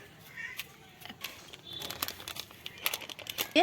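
A Maggi masala seasoning packet is torn open while a snack recipe is being prepared, giving close crinkling and ripping plastic bursts in short irregular rustles that are quiet and sit alone without talk.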